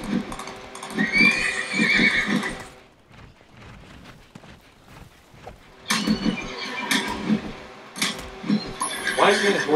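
In the Disney Infinity Lone Ranger game, a horse whinnies loudly and hooves clip-clop in rhythm, then a quieter pause before more neighing, hoofbeats and game effects return.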